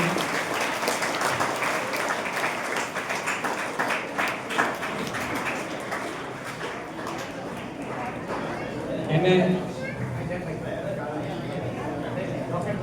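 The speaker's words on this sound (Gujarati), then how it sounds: "જોરદાર તાળીઓથી આ બંને બાળકોને પણ આપણે" Audience applause for two Class 1 children being welcomed at a school admission ceremony at a high school, broad steady clapping running through the whole stretch with a brief louder swell near the end.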